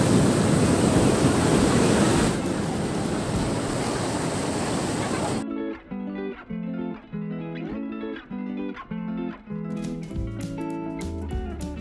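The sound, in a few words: rough morning sea waves at Puri beach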